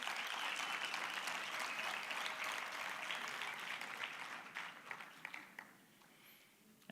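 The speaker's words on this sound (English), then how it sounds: "let's give Southwest Gauteng a good round of applause" Conference attendees give a sustained round of applause, broad, even clapping that gradually tapers off into a few scattered claps.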